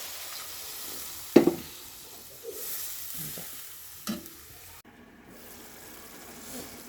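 Sidol, a traditional northern Bengali dish, being stirred as it fries in a pan, with a low steady sizzle and a few sharp scrapes and knocks of the spoon.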